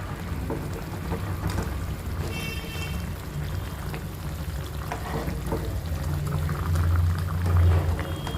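Fish curry gravy bubbles steadily in a pan on the stove, a continuous close simmering hiss with small pops and gurgles that swells slightly toward the end.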